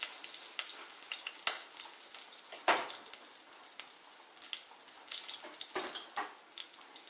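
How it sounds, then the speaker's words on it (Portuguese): Garlic and seasoning sautéing in a pan with a teaspoon of salt for a creamy chicken pie filling, a steady soft sizzle with scattered crackles and a few sharper pops, close and continuous with no talking. "Agora vou colocar 1 colher de chá de sal e vou deixar refogar o tempero."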